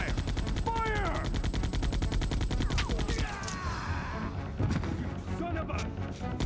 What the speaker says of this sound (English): Them guns sound like they lacking, ain't they?